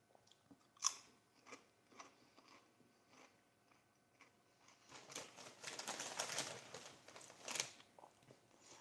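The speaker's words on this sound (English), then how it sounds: "Is my chewing bothering y'all?" Close-miked chewing and crunching of food, with irregular soft bites building into a denser, louder run of crunches toward the end, no talking.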